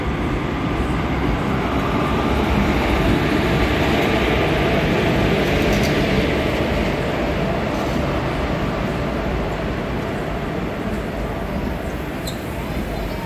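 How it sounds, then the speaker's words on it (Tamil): A Tirunelveli–Sengottai Express train pulls into a platform, giving a steady, loud rumble of wheels and carriages that holds for the whole stretch without pause. "பிளாட்ஃபார்ம் நம்பர் 1க்கு திருநெல்வேலி செங்கோட்டை எக்ஸ்பிரஸ் வந்து அரைவ் ஆச்சுங்க"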